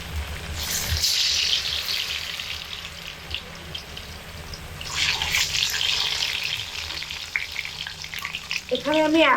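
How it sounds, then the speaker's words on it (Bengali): Kuli pitha fry in hot white oil in a wok with a continuous close sizzle that swells and fades as pieces are stirred, ending in a few faint clinks. "গরম তেলের মধ্যে কুলিগুলোকে একে একে দিয়ে এবার ভেজে নেব।"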